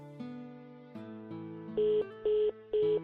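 A telephone is being dialed to call someone: a series of short electronic tones changes pitch, then three evenly spaced ringback beeps follow, clear and close with no talking.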